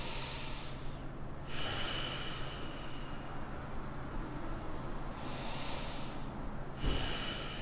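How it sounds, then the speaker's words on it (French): Slow, deep breaths during a guided relaxation session, with two long airy inhalations and exhalations, close and soft against a steady low background hiss. "prenez quelques respirations comme ça,"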